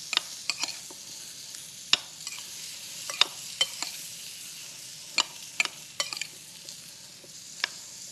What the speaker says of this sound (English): we need to add some olive oil and just stir it together.